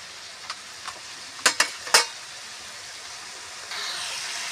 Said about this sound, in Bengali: দেখুন মশলাটা ভাজা হয়ে এসেছে।